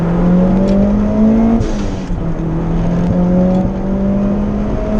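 Mitsubishi Evo 3 with a big turbo pulling hard in second gear at full throttle, a loud steady engine drone climbing in pitch with a brief dip mid-pull, close and continuous throughout.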